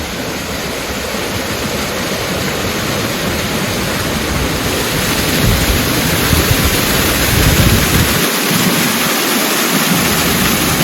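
A small waterfall near the Gold Creek trail in Juneau, Alaska, a loud continuous broadband rush of falling water, close and steady, with no voices.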